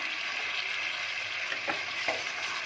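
Potatoes and peas cooking with spices in a pan for a vegetarian aloo matar kosha, a steady close sizzle with a couple of soft stirring scrapes and no talking.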